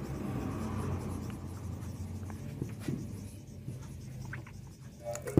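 A teacher writes a sentence on a classroom board during a chemistry lesson, the scratchy strokes of chalk or marker running steadily at moderate loudness with faint room rumble behind and no talking.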